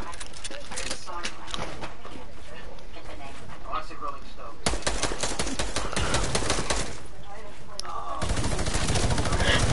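A minigun in a shooter game fires continuously in a dense, loud, rapid rattle that changes intensity partway through, with voices talking over the constant gunfire.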